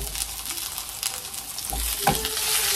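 Food sizzles and fries in a frying pan in a home kitchen, a continuous close hiss with occasional stirring scrapes and small pops.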